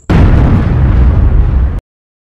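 A loud, close explosion from a time bomb, a single sustained roaring blast that lasts under two seconds and then cuts off abruptly into silence.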